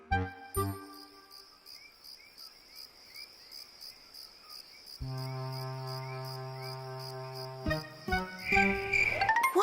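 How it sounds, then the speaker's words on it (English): Crickets chirp at night in steady, high, rhythmic trills, faint and close, with a soft bell-like melody and a low sustained tone joining partway through. "It's only the crickets," whispered Miffy. "They always chirp at night."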